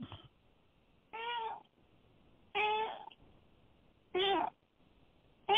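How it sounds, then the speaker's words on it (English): Talkative house cat meowing four times in spaced, drawn-out calls, close and clear against a quiet room with no talk. "the cat sounds like she agrees"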